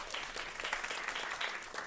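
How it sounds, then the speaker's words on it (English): Audience applause after lunch at a food-themed talk, a steady wash of many hands clapping at moderate distance, continuous for the full two seconds with no voices over it. "so give them a round of applause."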